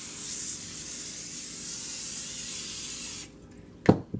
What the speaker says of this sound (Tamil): இது மேலே லைட்டாக ஆயில் ஸ்ப்ரே